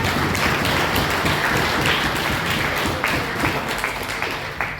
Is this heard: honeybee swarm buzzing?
no